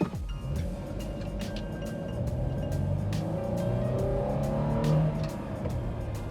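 A fifth-generation Toyota 4Runner fitted with a Pedal Commander launches from a stop and accelerates, its engine note rising steadily as gears climb, heard from inside the cabin with faint clicks and rattles.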